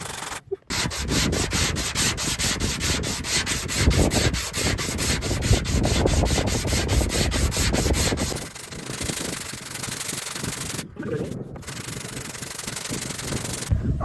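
Hand sanding a fiberglass car mirror on an MK3 Supra drift build with 120 grit sandpaper: fast, continuous rhythmic scrubbing strokes, loud and close, with a brief pause partway through before the rubbing resumes.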